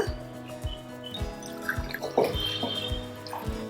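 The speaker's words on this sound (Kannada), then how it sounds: "ಹಾಗೆ ಸಮ ಪ್ರಮಾಣದಲ್ಲಿ ಇದಕ್ಕೆ ನೀರನ್ನು ಕೂಡ ಸೇರಿಸ್ಕೊಳ್ಳೋಣ" Water is poured into a pot of milk while making garlic milk, producing faint, close trickling and soft splashy plops that repeat in an irregular rhythm.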